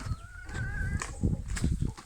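Chickens cluck and call nearby, one drawn-out squawk over low rustling and shuffling movement.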